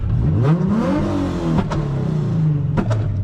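A modified car's engine revs loud and close as heard from inside the cabin, rising and falling in pitch through several throttle blips with sharp pops, with no speech.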